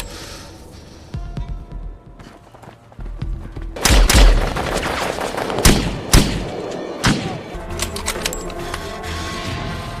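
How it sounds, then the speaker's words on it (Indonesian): Gunfight in a film ambush: sharp gunshot bursts and heavy thuds between 4 and 7 seconds, with a loud cluster and scattered later shots over a low rumbling, throbbing background. "sehingga baku tembak pun tak dapat terhindarkan lagi"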